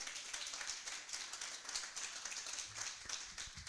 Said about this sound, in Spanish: Dé un aplauso al Señor.